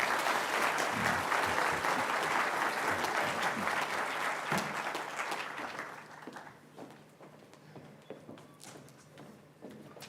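Conference audience at the University of Nairobi applauding the Vice Chancellor, a dense round of clapping that gradually thins into scattered individual claps.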